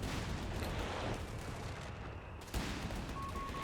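Artillery barrage in the real-time strategy game Company of Heroes 3, a dense, loud roll of overlapping blasts and rumbling impacts that barely lets up, with a sharp fresh hit near the end.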